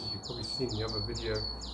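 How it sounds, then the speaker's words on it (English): A bird sings outdoors on a house roof, repeating bright whistled chirps in a steady rhythm while someone talks over it close by. "We're outside, so there's a bird singing now"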